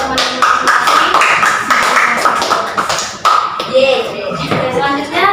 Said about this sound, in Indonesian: boleh beri tepuk tangan kepada teman yang masing-masing